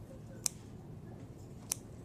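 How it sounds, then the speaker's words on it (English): Surgical scissors snip through a pig backbone twice, two sharp, close metallic clicks about a second apart over a faint background hum. "I'm going to insert my surgical scissors, and I'm going to sort of turn sideways, and I'm going to try to snip off"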